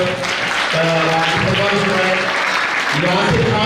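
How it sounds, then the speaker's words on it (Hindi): Loud audience applause fills a career guidance program hall in honour of Yasir Khan, a dense steady wash of clapping throughout with tonal voice-like traces running beneath it. "एक बार जोरदार तालियों से यासिर खान साहब"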